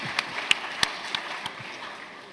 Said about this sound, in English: A round of applause for Zenith Bank.